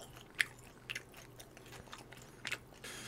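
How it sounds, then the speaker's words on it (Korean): Crunchy battered Korean fried chicken (dakgangjeong) being chewed up close, giving a few sharp, crisp crunches and bites spaced across a quiet background, with no talking. "튀김옷 씹히는 소리 들으세요?"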